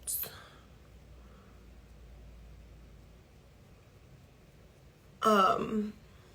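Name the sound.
throat clearing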